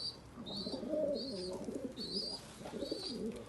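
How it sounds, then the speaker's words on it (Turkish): Tumbler game pigeons cooing nearby in repeated soft, rolling phrases, with faint higher chirps overlapping at a steady level. "Hepsi oyun kuşudur."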